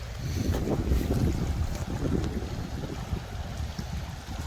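Clearwater River in Alberta running high, a loud, steady broadband rush of fast water close by, mixed with gusty wind buffeting the microphone, with no voices.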